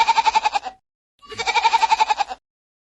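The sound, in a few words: goat bleating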